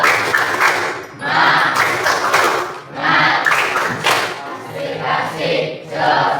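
Junior high school students in a classroom perform a rhythmic clapping chant as a morning ice-breaker, loud bursts of group clapping and shouted voices in repeated phrases with short pauses between.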